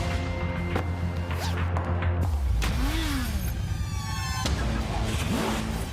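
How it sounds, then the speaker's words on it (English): Heavy road traffic in the rain, a continuous dense wash of passing cars with engine rumble and swishing tyres, close and loud, with thumps and a rising whine threaded through. "there's so much traffic"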